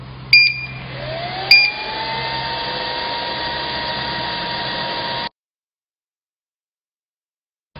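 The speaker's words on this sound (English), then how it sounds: "And let's start the machine now." A 3D vacuum sublimation heat press transfer machine set to 200 degrees hums steadily at close range, with two sharp beeps near the start, then cuts off abruptly into silence.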